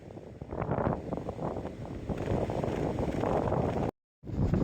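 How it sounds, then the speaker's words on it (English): Strong wind on the Appalachian Trail near Charlie's Bunion buffets the microphone in a constant roaring rush that cuts out briefly near the end. "Super windy today"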